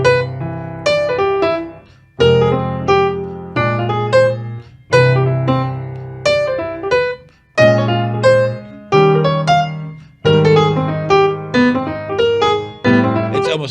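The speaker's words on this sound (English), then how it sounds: "If I play only idioms, I'm going to sound like this." Jazz solo phrases built only from stock idioms, played as short separated bursts of melodic notes over low sustained tones, each phrase starting strong and decaying, with brief gaps between them.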